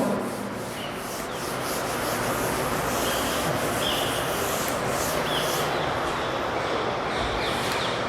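Steady, close rubbing of a cloth or duster wiping writing off a classroom board, with a continuous scratchy texture that runs unbroken for several seconds and no talk over it.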